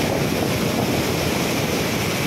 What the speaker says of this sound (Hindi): पानी की इतनी तेज़ पानी आ रहा है